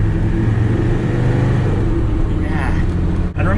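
A Land Rover Defender Td5 with performance intercooler, EGR blank and straight-through exhaust pulls under throttle, a loud, close diesel drone building steadily from inside the cab, while someone talks over it.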